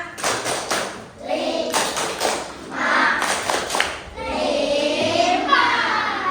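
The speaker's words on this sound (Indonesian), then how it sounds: "Kasih tepuk tangan dong buat kelompok 5." Schoolchildren in a fifth-grade maths class clap for group 5, bursts of hand claps rising and falling in several waves around a teacher's voice, with kids' chatter mixed in.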